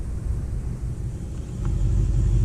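A Chevrolet SS with bi-modal exhaust in sport mode, heard from inside the car, rumbles with a deep, throbbing low growl that swells slightly louder in the last second.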